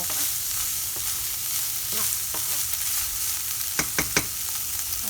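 Garlic fries in a pan for stuffed mushrooms, giving a steady, close sizzle with a few quick scraping stirs near the end.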